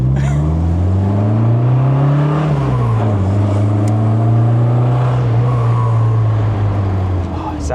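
An MG Midget sports car engine drones steadily up close while driving, rising in pitch then settling into a sustained note as it shifts and cruises.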